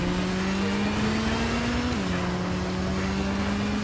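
A slow motorbike in the video game Gotham Knights, heard as a steady, droning engine tone that dips slightly in pitch midway, continuous and fairly close, with no talking.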